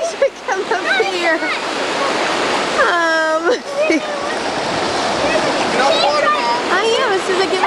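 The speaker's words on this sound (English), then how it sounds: "I didn't know the waves would come up here." Ocean waves wash up onto a beach in a steady broad surge, with splashing and people's voices breaking in over the water.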